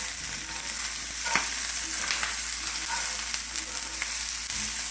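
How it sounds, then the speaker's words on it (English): Peppers fry in a hot cast iron skillet, giving a steady, close hiss of sizzling with light scraping and stirring clicks throughout. "And then also I'm going to put in some peppers in here as well."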